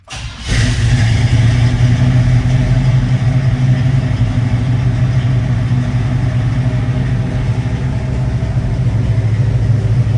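A 1971 Chevrolet Super Cheyenne C-10 with a carbureted engine cranks and catches after a short start, then settles into a loud, steady, rumbling idle close by that runs without a break.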